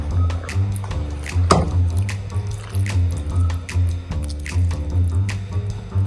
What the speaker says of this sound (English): Our tomato sauce and water mixture is ready. So I'm just gonna pour this over the sarmale.